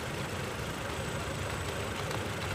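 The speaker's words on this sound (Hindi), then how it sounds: "कार अभी हमारी स्टार्ट है और इंजन कितना ज़्यादा ये हिल रहा है" Maruti Suzuki Ertiga 2022 petrol engine idling roughly with the check light on, a steady dense rumble close to the microphone with no breaks.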